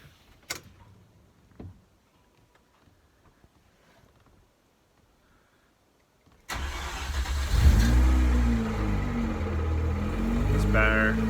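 A Mazda RX8 with a newly replaced six-speed gearbox cranks and fires up after a few quiet clicks, then settles into a loud, steady rotary-engine idle with slight revving, heard close up with no talk.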